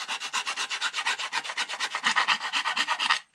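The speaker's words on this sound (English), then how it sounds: "now is a little bit of sanding paper" Sandpaper rubs a Tamiya TA06 Subaru BRZ model car part in about twenty quick, even back-and-forth strokes, close and crisp, then stops.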